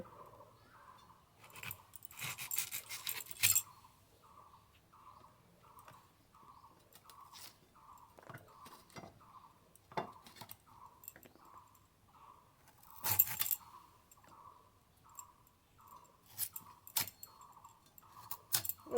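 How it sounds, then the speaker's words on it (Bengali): Mangoes with the skin on being cut with a knife, a regular series of faint clicking chops roughly every half second, close and quiet, with a few louder crunching knocks in between. "খোসা সমেত আমগুলো এখন কেটে নেব"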